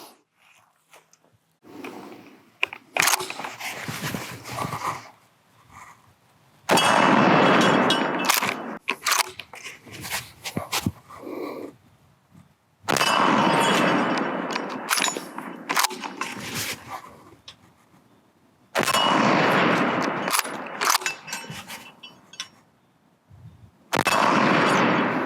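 Rifle shots from a Beretta BRX1 fired outdoors, four loud broadband bursts with ringing tails spaced several seconds apart, no talk between them.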